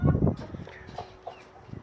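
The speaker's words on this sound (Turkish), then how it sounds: "Asıl damızlık horozumuz şu." A breeding rooster clucks and calls in short bursts outdoors on a farm, with low rumbling and handling noise at the start, then quieter intermittent clucks.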